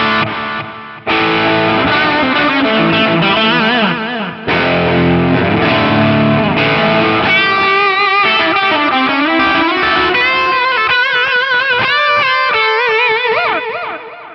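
An electric guitar plays a flowing melodic line through reverb with delay taken from a pre-delay tap at the output, loud, sustained and washy with echoing repeats smearing the notes together.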